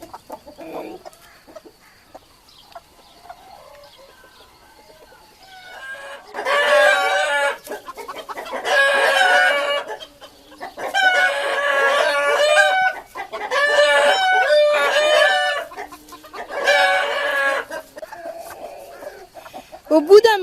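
A broody hen grumbling and clucking close up in four or five drawn-out bursts of squawking protest, separated by short quiet gaps, with a faint voice early on before the first outburst.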